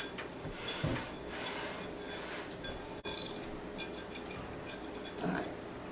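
Donut batter gets mixed in a bowl, with steady close scraping and rubbing plus light clinks of utensil against the bowl, fairly quiet and without voices.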